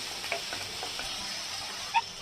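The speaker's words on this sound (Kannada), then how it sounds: "ಈ ರೀತಿ ಈರುಳ್ಳಿ ಚೆನ್ನಾಗಿ ಫ್ರೈ ಆದಮೇಲೆ" Chopped onions with salt fry in a pan for moong dal, sizzling softly with a few quick scraping stirs of a spoon and one brief clink, close and quiet.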